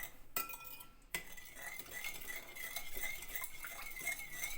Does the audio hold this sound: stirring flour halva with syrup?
yes